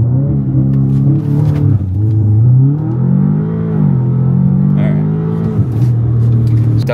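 A car with a catless exhaust revs hard and close, its deep raspy drone climbing and dropping through several pulls, loud and continuous, with brief voices in the background.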